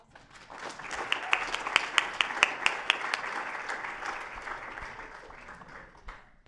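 Audience applause after a team's hackathon project demo at Space Apps NYC, a dense wash of clapping with a few sharp nearby claps standing out, sustained for several seconds before thinning out.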